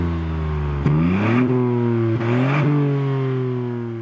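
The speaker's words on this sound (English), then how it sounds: "And here we go with the engine." A 2019 Ford Fiesta ST's 1.5-liter, 200-horsepower engine revs up loudly several times, its pitch rising and falling in close, continuous bursts.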